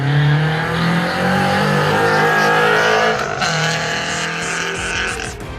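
Subaru BRZ fitted with a 1320 Performance front pipe revs hard, its exhaust climbing and falling through the higher RPMs with a slight raspy edge, loud and close throughout with no talking.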